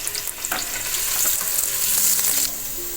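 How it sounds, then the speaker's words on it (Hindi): Chopped onions frying in hot oil for aloo keema, a close, steady bright sizzle with faint stirring scrapes, no one talking. "हमारा ऑयल गर्म हो चुका है, मैं इसमें प्याज ऐड करूँगी"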